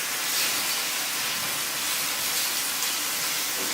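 Bacon frying in a pan for a BLT panini, a close, steady hiss and crackle of fat that stays loud and even the whole way, with no voices over it.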